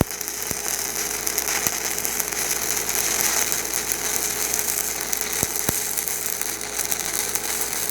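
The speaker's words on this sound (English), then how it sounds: "Short steady arc, rod touching the weld metal on the bevel face." A 6010 stick rod welds along a beveled joint on an Everlast Cyclone 262, a short steady arc giving a continuous close crackling hiss with occasional sharper pops.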